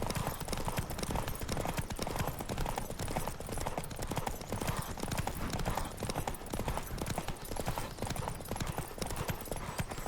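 Rapid, continuous hoofbeats of a horse in The Witcher 3 pound in a fast galloping rhythm, loud and close, alongside a dense wash of other game sounds.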